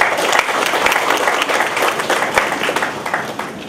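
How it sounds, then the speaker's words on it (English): An audience at an academic lecture at Goa University claps in sustained applause, dense and steady with individual claps standing out, filling the room for a few seconds. "Please welcome them with a round of applause."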